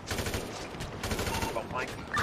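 Gunfire in Counter-Strike: Global Offensive, a rapid burst of automatic shots crackling continuously for a couple of seconds at close range, ending in a louder blast.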